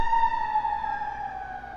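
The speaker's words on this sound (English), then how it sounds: "sirens." A siren holds a steady, slowly falling electronic tone for a brief moment, moderately loud and alone with no voices.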